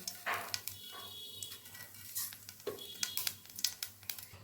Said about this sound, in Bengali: তেল গরম হয়ে গেছে, আমি এখন এর মধ্যে দিয়ে দিচ্ছি কালো জিরা ফোড়ন।